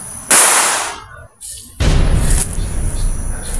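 A sharp firecracker bang bursts out, followed by a second loud pop and crackling hiss that trails off outdoors.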